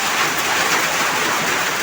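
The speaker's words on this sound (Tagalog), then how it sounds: "Malakas yung ulan." Heavy rain pouring steadily outdoors, a dense continuous hiss with no break, loud and close, with no voices over it.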